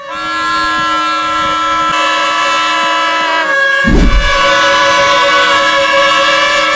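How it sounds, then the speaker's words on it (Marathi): Loud, sustained high-pitched tooting from several toy trumpets blown together by a group of boys in a noisy jumble, with a brief low thump partway through. "सगळ्या पोरांनी घेतल्या स्वतःच्या पैशाच्या पिपाण्या आणि या पिपाणी घेऊन असं काहीतरी धिंगाणा केला"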